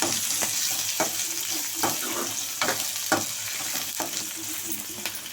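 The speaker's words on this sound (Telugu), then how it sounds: "యాడ్ చేసుకున్నాక లైట్గా కలుపుకొని ఒక 1 minute అలా ఫ్రై చేసుకున్న తర్వాత" Garlic, green chillies and onions fry steadily in a pan for a ridge gourd curry, a constant hiss broken by regular clacks of a spoon stirring roughly every second, close and moderately loud, with no talk.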